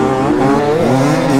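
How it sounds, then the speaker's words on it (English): A dirt bike launches hard off the line, its engine revving loud and close in a steady, rising buzz through the whole moment. "Brady's pretty good off the line"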